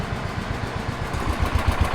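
A Wheel Horse 314H garden tractor engine runs steadily up close, with a rhythmic low chugging that gets a little louder near the end.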